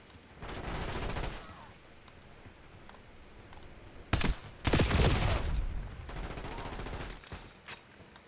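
KRS 7.62 rifle fire in the video game Black Ops 7: sharp, loud shot bursts, one early and two close together later, each followed by ringing tails, with quieter mechanical clicks and handling sounds in between.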